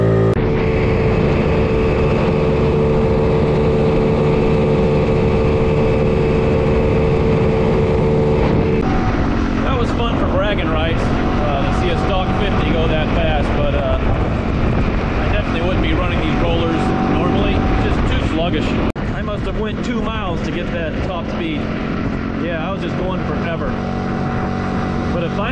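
A GY6 139QMB 50cc scooter engine on a long run, droning loudly and steadily throughout with a shifting pitch as revs change, with wind and road noise and no talk.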